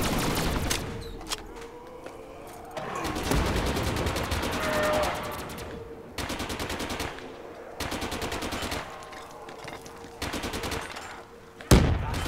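Rapid automatic gunfire from a weapon in Black Ops 3 Zombies on the map The Giant, loud bursts of several seconds each separated by short pauses, ending with a sharp louder shot.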